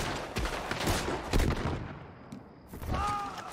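Rapid gunfire crackles in Red Dead Redemption 2 as overlapping shots from several weapons ring out close and loud, easing briefly before a final burst, with a faint ricochet-like whine near the end.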